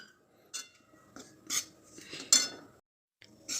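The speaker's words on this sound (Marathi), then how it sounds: "रव्याला पण छान असं भाजून घ्यायचं" Semolina roasting in ghee in a pan, stirred with a metal spoon that gives four or five distinct scraping clinks against the pan, separated by short quiet gaps, with no voices.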